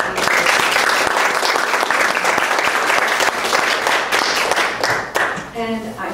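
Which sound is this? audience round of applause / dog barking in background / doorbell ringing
audience round of applause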